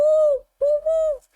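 A person's voice imitates a bird call, hooting like an owl or dove during a tabletop role-playing game: two loud, close, sustained hoots separated by a brief pause.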